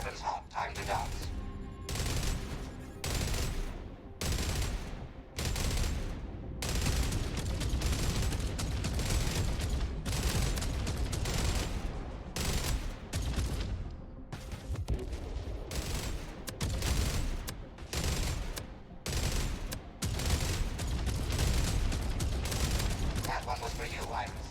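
Bursts of weapons fire in the video game Jump Ship, repeated rapid volleys separated by short gaps, loud and close, with intermittent voices talking.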